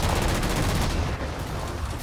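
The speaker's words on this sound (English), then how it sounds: "Fire the missiles!" Missiles are fired in Halo 4 multiplayer, a dense loud burst of rapid explosive blasts and booms that thins out after about a second into rumbling battle noise.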